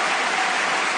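Crowd applause at a live show, a dense, even wash of many hands clapping at steady loudness without a break.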